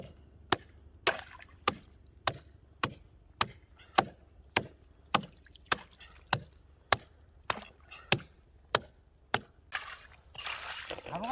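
Ice on a frozen fishing spot being broken with a steady run of sharp, hard strikes, about eighteen in a row, followed by water sloshing at the end.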